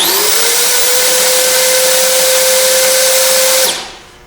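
A power drill fitted with a drywall mud mixing attachment whirs loudly and steadily for several seconds, then winds down to a stop.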